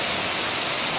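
Love Waterfall (Air Terjun Cinta, also called Noelaku) in Soe, Indonesia, a loud, steady broadband roar of falling water filling the short moment.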